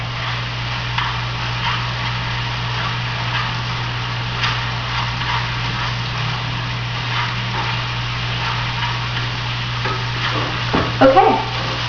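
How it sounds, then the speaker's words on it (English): Ground meat frying in a skillet for shepherd's pie, giving a continuous soft sizzle under a steady low hum, with a few faint clinks and a louder scrape near the end. "now we see that the meat is mostly cooked"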